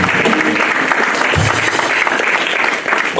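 A congregation applauding during an apostle's sermon, a loud, continuous burst of clapping filling the room for a few seconds.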